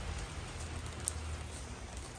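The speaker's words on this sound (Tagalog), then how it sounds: "So ngayon umuulan ulit siya." Steady rain falls outside a home in St. John's, Newfoundland, a soft, even hiss with faint scattered drops and no voices.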